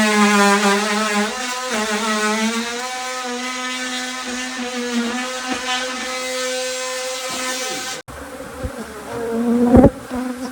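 Angry honeybees swarm from a busy hive inside a house wall, making a loud, close, sustained buzz with wavering pitch that cuts off abruptly, followed by fainter buzzing and a sharp knock.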